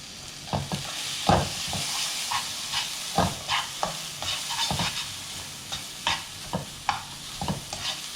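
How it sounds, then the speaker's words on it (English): Curry is stirred in a pan with oil, irregular spoon scrapes and knocks breaking over a continuous near sizzle for several seconds. "now we're going to give it a good mix"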